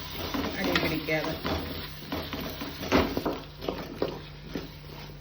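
Garlic and ginger sizzle in a pan for chicken biriyani while a spoon stirs and scrapes, giving a soft continuous fry broken by irregular clinks against the metal, with a voice speaking over it.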